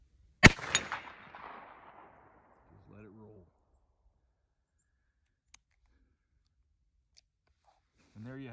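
A single sharp revolver gunshot fired from the prone position off a rest bag in an outdoor field, with a ringing, fading echo afterward and brief bits of speech later.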